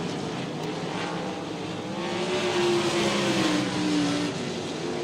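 ASCS sprint cars scream down the front stretch at South Texas Speedway, engines whining and rising in pitch as they race past, a loud, continuous roar that swells and sweeps by without any talking over it.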